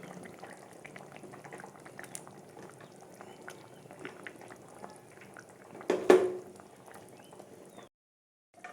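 An egg, potato and pointed gourd curry boils in an uncovered pot, giving a steady soft bubbling with a brief louder clatter near the end before the sound cuts off.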